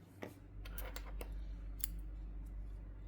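Scissors snip through crochet yarn after finishing a floral granny square, a few sharp clicks and snips over a steady low hum, close and fairly quiet.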